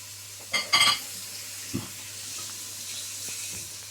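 Tomatoes tipped into a pan of frying gobi aloo and stirred, a few clattering spoon-and-pan scrapes up front, then a soft steady sizzle carrying on underneath.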